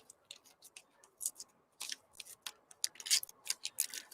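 Material is torn by hand in a series of quick, crisp ripping bursts, some short and some longer, close by and moderately quiet, with no talking.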